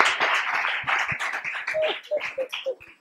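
Students at City Rose school clap for a classmate, a quick run of sharp hand claps that turns into a slower, uneven rhythm, with a few voices calling out near the end.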